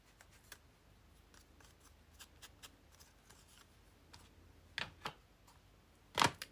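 Scissors cut a square shape out of paper, producing a series of quiet, crisp snips and clicks over a low hiss, with two louder cuts near the end.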